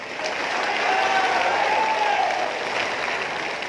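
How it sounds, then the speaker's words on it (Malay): Thunderous applause from a crowd at a Barisan Nasional Sabah party launch rally swells quickly and holds as a dense, steady roar of clapping, tapering slightly near the end. "Kita berikan tepukan gemuruh pada"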